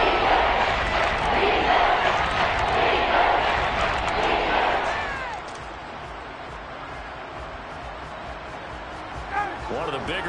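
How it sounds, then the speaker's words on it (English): Stadium crowd at an NFL game between the Saints and Colts, a loud sustained roar swelling after a big completion and then easing to a steady murmur, with a commentator talking over it. "the crowd getting into it as we come up on a big 3rd down"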